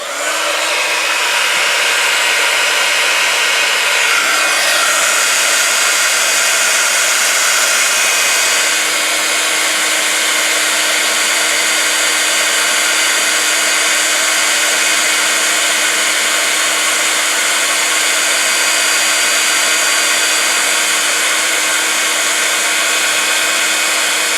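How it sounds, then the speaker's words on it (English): A crafting heat tool blows hot air onto a sheet of vellum, a steady loud whooshing hum that runs unbroken throughout with no talking. "I'm going to turn on my heat tool, so it's going to get noisy"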